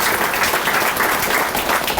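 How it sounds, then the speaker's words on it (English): An audience claps steadily and densely at a 2023 Faribault Sports Hall of Fame ceremony. The applause is full and continuous for the whole stretch, with no talking over it. "Let's give a round of applause to Chris Reavers for doing the introduction"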